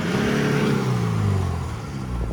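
A Honda City diesel car with about 1.5 lakh km on it revs hard, its engine note rising and sustained, then easing off slightly near the end, close and loud with no talking.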